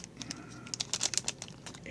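A 1991 Nintendo Game Boy Metroid II cartridge is worked out of a tight plastic container, giving a quick series of sharp plastic clicks, scrapes and crinkles up close, bunching into a cluster midway.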